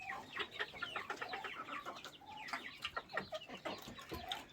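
Several chickens cluck and chatter nearby in a busy, overlapping stream of short calls, with no talking.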